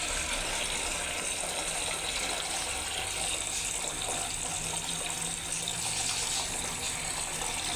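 Water runs from a tap into a container in a steady, loud gushing rush that continues without a break, with no talking.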